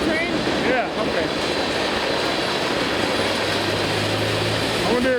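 BNSF 755 locomotive leading a CP freight train past at Duplainville, a loud steady rumble of rolling cars with faint wheel squeals, while people talk over it.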